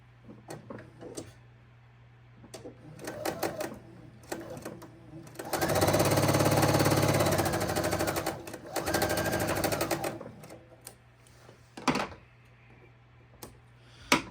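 A sewing machine stitches quilt pieces at a 2.0 stitch length, running in short rapid bursts, then a longer steady run of several seconds, with clicks and pauses between, close and moderately loud.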